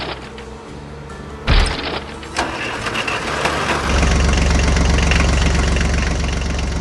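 A green tractor engine in an animation starts with a sharp burst, then settles into a loud, steady, rumbling drone as it drives on.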